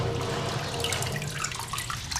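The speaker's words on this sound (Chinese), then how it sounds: "这泡好的这个菌根咱洗干净" Soaked mushroom roots being rinsed in a kitchen sink, with steady running tap water splashing and trickling close by throughout, no voices.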